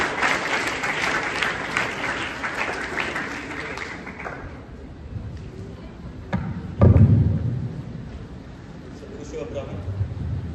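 Students at a school investiture ceremony give a scout clap: dense applause fills the first four seconds, then fades to a quieter murmur with a single heavy thump near the seventh second.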